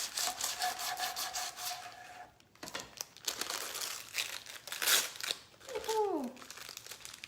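A knife sawing through a wrapped gluten-free sandwich on a board, close scratchy back-and-forth cutting strokes with crinkling wrapper, ending in a brief squeaky scrape.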